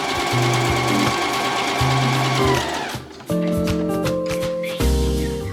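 A sewing machine runs in steady bursts while stitching fabric bag straps close to the opening edge and then the other edge, loud and near, with a brief pause before the motor starts again.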